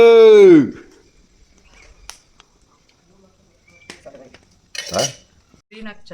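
A metal spoon scrapes and clinks in a pot while country chicken curry is stirred in a village kitchen, with sparse, sharp utensil knocks spread across the stretch and a brief voice at the start.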